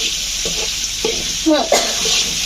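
Garlic paste and spices sauté for a dried fish and eggplant dish, a hissing sizzle with a few stirring scrapes, while someone's voice is briefly heard in the middle.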